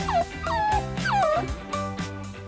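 A dog whimpers and yips indoors in a run of high, wavering whines, several short rising and falling cries in close succession, near and fairly loud, over a sustained musical background.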